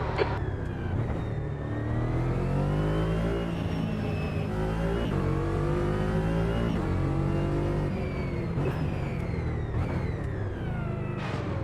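Race car engine in a sim racing game on the Nordschleife, loud and continuous, revving and shifting through gears with rising and falling pitch, no talk over it.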